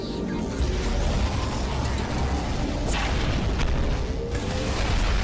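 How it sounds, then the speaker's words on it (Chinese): Six laser cannon blasts strike the head of a flying toilet in an animated Skibidi Toilet scene, heard as dense, loud mechanical booms and a sharp burst near the middle over constant rumbling, with no talking. "6发强大的激光炮全面轰击飞行马桶的头部"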